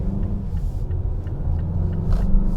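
A 2022 Mazda CX-5 Signature driving on the road, heard from inside as a steady, low engine and road rumble with faint tire noise, constant and moderately loud throughout.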